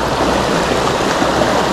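River water rushes steadily around someone wading through a river while out fishing for snakehead. A loud, even, broadband gush continues throughout with no voices.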